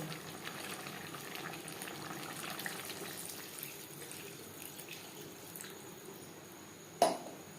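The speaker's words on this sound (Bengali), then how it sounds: "তিন চার মিনিট কষিয়ে নেওয়ার পর দিয়ে দেব জল" Fish curry of hilsa with potato and eggplant after water is added, a low soft bubbling simmer throughout, faint and close, with a single sharp knock near the end.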